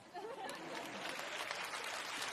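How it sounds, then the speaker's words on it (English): Studio audience applause and laughter at a Russian-language comedy show, a dense, even clatter of many hands that holds steady and fairly quiet for a couple of seconds, with no talk over it. "the laughing and applause is so fake"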